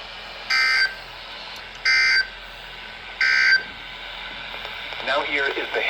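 A weather radio sounds its alert tone: three loud, identical electronic beeps, each about a third of a second, spaced evenly over a quiet static background, followed by a brief burst of voice.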